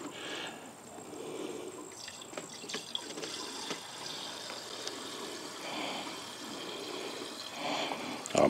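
Coolant poured into an engine block after a heads and cam swap, a steady trickling, gurgling liquid flow with small splashes, close by and continuous throughout.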